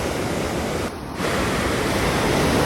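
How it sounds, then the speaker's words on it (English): Broadband roar of Pacific Ocean surf washing onto a West Coast beach in San Diego, steady and loud with a brief dip in the middle, wind-like hiss throughout and no voices. "waiting for the waves to wash in and destroy it"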